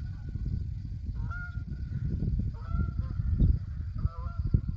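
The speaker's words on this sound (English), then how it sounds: "oh, we got geese coming in" Geese honk repeatedly as they fly in to land in a field to feed, a series of clear, fairly close calls over a rustling outdoor background.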